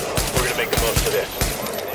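Rapid gunfire in the video game Tom Clancy's The Division, rhythmic close bursts of automatic shots repeating steadily over a short stretch.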